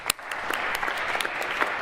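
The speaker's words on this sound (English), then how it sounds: "So another round of applause for all of you." A church congregation at its annual meeting breaks into a short burst of steady applause. It starts with one sharp clap, then many hands join in a moderately loud, even patter.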